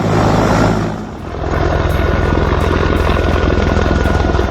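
A forestry helicopter carrying a suspended saw cuts through a tree, heard as a loud, close, steady rotor drone with a fast chopping pulse that dips briefly and then holds for the rest of the clip.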